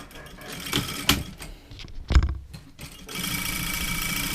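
A sewing machine stitches across the bottom of a pocket bag on a garment with a jett pocket, giving short bursts of rapid mechanical whirring and a longer steady run at the end, close and fairly quiet.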